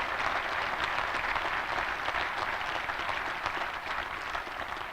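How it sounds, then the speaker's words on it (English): A crowd at an outdoor national cemetery dedication applauds, dense steady clapping that fills the whole stretch, loud and even, tapering slightly at the end. "Please give each of those individuals a round of applause."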